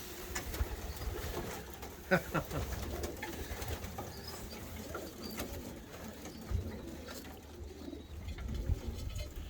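Pigeons coo in a loft, soft repeated throaty calls mixed with faint rustling and wingbeats, while people talk quietly in the background.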